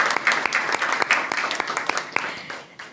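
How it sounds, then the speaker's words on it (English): A brief burst of audience applause for a guest at a formal event, many hands clapping in a lively crackling texture with distinct individual claps, tapering off toward the end. "A big round of applause for Mr."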